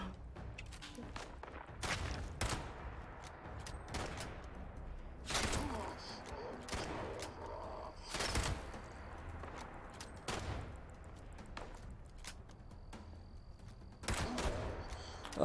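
Gunfire in the video game Fallout 76, several sharp bursts of shots spread across the stretch at moderate distance, mixed with game ambience and some footsteps.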